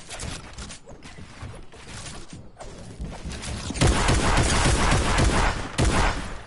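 Rapid video-game gunfire crackles in dense bursts, with several volleys earlier and a louder sustained stretch of repeated shots toward the end, backed by mechanical clicking.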